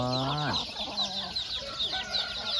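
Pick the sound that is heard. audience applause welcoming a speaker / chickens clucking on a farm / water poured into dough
chickens clucking on a farm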